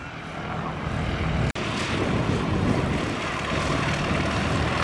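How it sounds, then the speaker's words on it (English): Propeller airplane at the Wings N Wheels air show in Minford, Ohio, a loud steady engine drone filling the whole stretch, broken by one brief dropout. "it really is nice to see the airplanes take off and come back and land safely"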